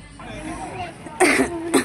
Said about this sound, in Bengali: এত কাশি হচ্ছে মানে কি বলবো।